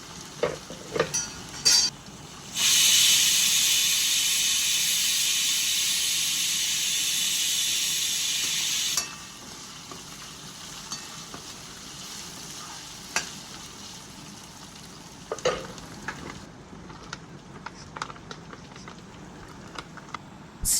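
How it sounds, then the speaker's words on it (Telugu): Broad bean curry sizzles and hisses in a hot pan, a loud steady fry lasting several seconds before dropping to a quieter simmer with occasional stirring clatters. "ఇక్కడ వచ్చేసి నేను చిక్కుడుకాయ కూర వండుతున్నా"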